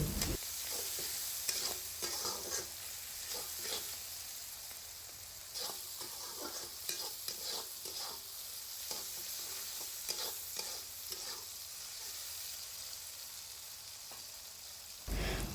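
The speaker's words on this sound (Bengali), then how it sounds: "নেড়েচেড়ে এই সব উপকরণগুলো একটু ভেজে নিচ্ছে" Spices with salt and turmeric are stirred and fried in a pan for a banana stem dish: a quiet, continuous sizzle runs under repeated scraping strokes of a spatula at an irregular rhythm, close by and without speech.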